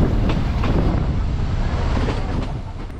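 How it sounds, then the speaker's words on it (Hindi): A Kangra Valley Railway train moves on through the Himalayan foothills, its loud steady rumble and rhythmic clickety-clack of wheels heard from on board, with some wind noise. "5 मिनट यहाँ रुकने के बाद ट्रेन आगे चल पड़ी।"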